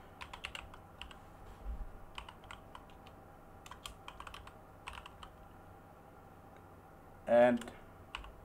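Someone types on a computer keyboard in irregular bursts of light clicks. A short louder sound comes near the end.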